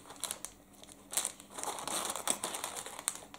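An emergency foil blanket of thin metallic NRC foil crinkles and crackles up close in irregular bursts, rustling steadily throughout without any talk.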